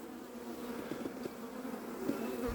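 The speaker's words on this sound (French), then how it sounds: "beaucoup d'abeilles qui battent le rappel" A swarm of honey bees being collected buzzes steadily at close range, a continuous low hum with individual bees droning past, no voices.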